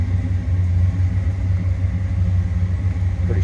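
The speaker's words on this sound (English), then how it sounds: "Nice little rumble coming out of that 390." A 1966 Ford Fairlane 500 GT convertible with a 390 V8 idles smoothly, its deep, steady exhaust rumble heard close up from behind the car.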